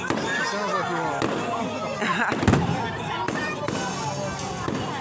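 Fireworks at a beach show boom and crackle at a distance, with one sharper burst midway, under steady crowd chatter and voices talking.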